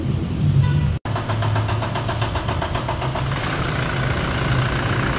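A 2017 Toyota Hilux diesel engine, just refitted after EGR and intake manifold cleaning, idles steadily with an even rapid mechanical clatter and low drone at close range, broken by one brief cut near the start; no one speaks.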